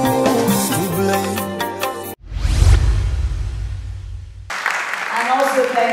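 Audience applause at the premiere of the movie In Love and Ashes, a burst of dense clapping of about two seconds, set between stretches of music and a speaker's voice.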